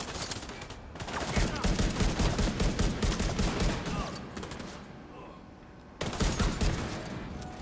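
Rapid pistol gunfire in The Division 2 video game, loud bursts of shots in quick succession that pause briefly and then resume, with a voice occasionally speaking over the shooting.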